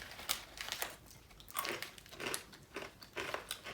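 Close, loud crunching of a roasted beans and corn kernels snack, repeated bites and chews in an irregular rhythm with no talk.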